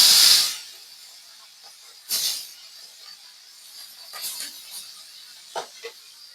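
Prawns hit hot oil in a wok with a loud burst of hissing sizzle, then quieter spurts of spitting and crackling flare up intermittently as they fry.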